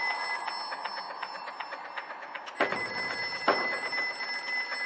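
A telephone rings repeatedly with a bright trilling bell, heard somewhat distant, with a couple of louder knocks or bumps partway through.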